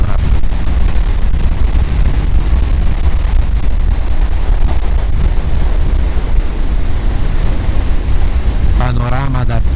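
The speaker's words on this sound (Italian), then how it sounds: "Un sacco di vento." Strong wind roars across a microphone while riding a motorcycle up the San Leonardo mountain pass, a loud, unbroken buffeting rush that swamps everything and barely lets up.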